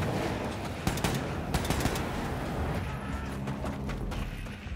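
Rapid automatic gunfire from the video game Wolfenstein II: The New Colossus rattles in loud, dense bursts, with sharp shots stacking over game background noise and mechanical clatter.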